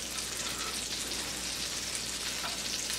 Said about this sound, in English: when that starts to melt, you go ahead and add your shallots